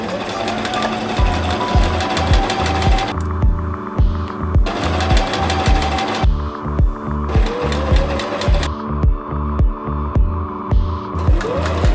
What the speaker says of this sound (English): it's got a zigzag stitch, well actually two options of zigzags, so I'm hoping that we'll get away with using this much cheaper machine